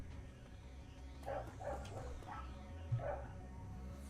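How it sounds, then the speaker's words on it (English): A neighbor's dog barks a few times outside, faint and muffled, over a low steady background hum. "there is a neighbor's dog barking outside"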